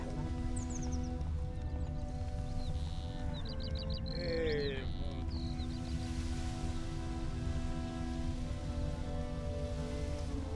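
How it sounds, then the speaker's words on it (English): Steady rain falls in The Witcher 3 game world in White Orchard, a constant, even hiss throughout with a few brief tonal chirps and soft movement sounds on top, and no talking. "It's raining, it's pouring."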